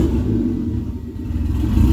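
Chevy Nova with a swapped 1JZ engine idling just after firing up, a loud, close, low rumbling drone that wavers slightly and carries no talking.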